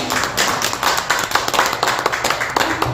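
Audience applause at a political think-tank opening event in Korea, dense rhythmic clapping from a crowded room, loud and sustained throughout.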